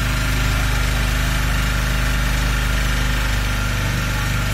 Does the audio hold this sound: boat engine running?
yes